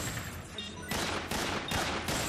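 Three or four quick SAA revolver shots crack out in rapid succession during a Metal Gear Online match, loud and close.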